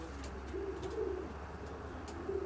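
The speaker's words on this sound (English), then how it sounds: "Rowley races 40 cocks on the Widowwood through to long distance" Racing pigeon cocks coo softly inside a widowhood loft section, with a few low repeated coos over a steady background hum and some faint rustling.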